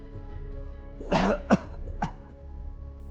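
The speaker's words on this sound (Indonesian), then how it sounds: "Ini batuk hilang-hilang." A person coughs three times in sharp, close bursts: one rough, longer hack, then two short coughs, with a quiet room behind.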